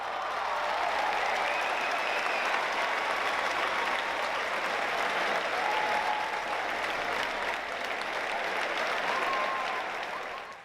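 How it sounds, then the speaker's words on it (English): A crowd applauds continuously at a high school DECA club event, a dense, even wash of clapping hands that holds steady for about ten seconds before tapering off. "I would also like to extend a huge applause for Dr. Tom Woodruff"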